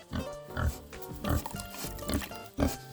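Pigs grunt at their water on a homestead, a handful of low, close oinks and snorts that come in an uneven rhythm.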